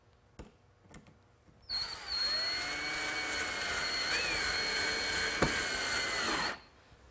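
A power drill drives screws into a leg bracket on a wooden Adirondack loveseat, one steady whirring run of about five seconds with a slight pitch wobble, close and fairly loud, after a few light knocks.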